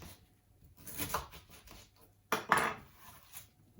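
A knife roughly chops a vegetable on a chopping board, with two short clusters of quick, close taps on wood separated by a brief pause.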